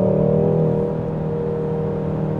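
A Hyundai Sonata N Line engine running in sport mode gives a steady, droning hum with a slight lift in loudness at the start. No one speaks over it.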